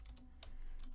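Quick keystrokes on a computer keyboard while entering placeholder text for a web page: a few crisp, close clicks in a brief burst.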